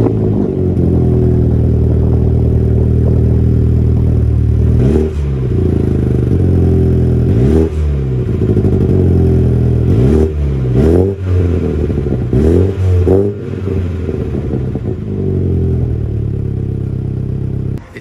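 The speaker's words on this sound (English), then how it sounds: "At the rear of the JCW is the twin exhaust, which sounds absolutely amazing." A MINI John Cooper Works with a twin exhaust idles loudly up close and is blipped in several sharp revs, its engine note rising and falling repeatedly over about eighteen seconds without any talking.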